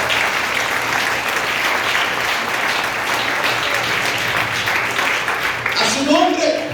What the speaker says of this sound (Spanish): Un aplauso al Señor de la gloria.